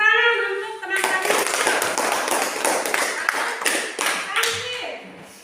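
A classroom of students claps for a classmate, a dense burst of hand claps following a short sung or spoken phrase, fairly loud and close, tapering off near the end as a voice returns.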